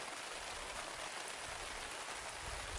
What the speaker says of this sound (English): This is going to be a little bit more rain than it's seen so far.